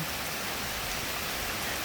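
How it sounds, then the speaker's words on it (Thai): Steady rain pours onto a hut at a temple, a dense and even hiss of falling water with no voices over it. "ผมเลือกที่จะหลบฝนอยู่ที่วัดนะครับ"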